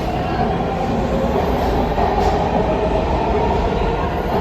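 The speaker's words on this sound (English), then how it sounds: "There's the train." A MARTA metro train rumbles loudly and steadily past Dunwoody station in Georgia, a continuous roar of wheels and motors with faint rattling, no voices heard.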